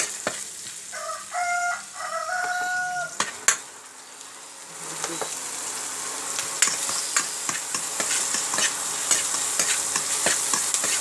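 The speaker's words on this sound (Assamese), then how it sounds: "আদা নহৰুখিনি কাঁচা গন্ধ যোৱালৈকে ভাজি থাকিব" Ginger and garlic sizzle in a pan for a fish-head and colocasia-stem dish, a steady crackling fry punctuated by clinks and scrapes of stirring, close and fairly loud.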